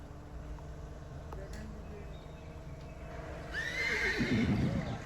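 A mare at a horse fair whinnies loudly near the end, a rising, shaky neigh over steady background noise and faint voices.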